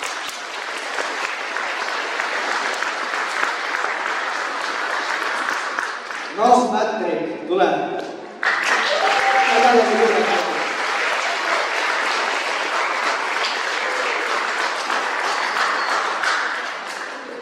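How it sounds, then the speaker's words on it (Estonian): A school audience at a spring celebration applauds loudly and continuously, a dense wash of many hands that briefly gives way to a short spoken call before the clapping swells back and carries on. "Ja teeme Liisale ka suure aplausi."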